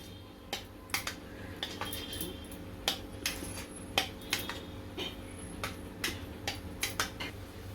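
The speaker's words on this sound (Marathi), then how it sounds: "पहिले दही चांगलं फेटून घ्यायचं आहे" Yogurt (curd) is whisked in a bowl with a spoon or whisk, giving a series of light, irregular clinks and taps against the bowl at a brisk, uneven pace, heard close over a quiet background.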